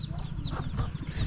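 Chickens clucking in a village house courtyard while being fed, soft repeated clucks at moderate distance over low background noise.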